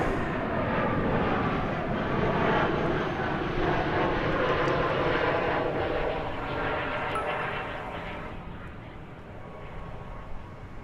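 A fixed-wing airliner at DFW Airport roars steadily with loud, broadband jet engine noise that fills the scene, easing slightly in the final seconds as it passes, with no voices.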